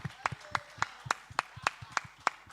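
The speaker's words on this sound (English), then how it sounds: "I want us to clap for the teams from Nyankpala." An audience claps in a steady, even rhythm for quiz teams at a quiz competition grand finale, with sharp, close claps about four per second throughout.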